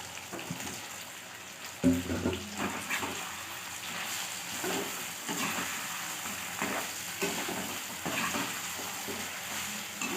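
Potatoes tossed into a hot pan and stirred, a steady close sizzle broken by scraping and clattering stirring strokes, with a sharper clatter as they go in, no talking.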